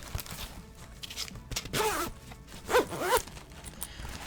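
A double zipper being pulled along the bottom of a nylon bag, several short raspy zips in quick succession, fairly close and quiet, with no talk.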